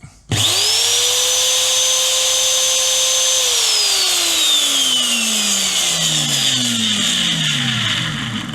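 Parkside POF 1200 D3 router starts up sharply and whines loudly at full speed with a steady high motor tone, then spins down with a falling pitch as it coasts to a stop.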